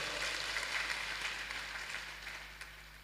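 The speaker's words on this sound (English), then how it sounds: "Can we give her a round of applause?" Scattered hand claps from a crowd at a university graduation congregation, fairly soft and diffuse, tapering off over a few seconds.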